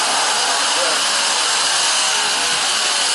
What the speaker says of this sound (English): Needle gun.